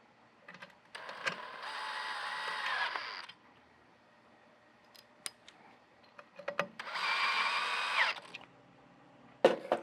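A power drill drives screws into a fan capacitor mount during a Wine Guardian fan motor replacement. Two separate whirring bursts of about two seconds each are broken by small handling clicks in a quiet room.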